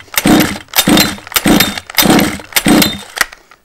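Small Baja minibike engine being pull-started over and over while flooded, five rough rasping bursts in a steady rhythm, each a short loud cranking scrape that never catches, close up with brief gaps between pulls.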